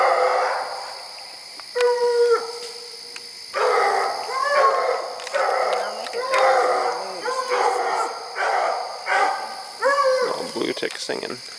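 Hunting dogs bark and howl during a night coon hunt, a chorus of repeated bays and drawn-out howls coming in bursts at moderate distance against steady insect noise.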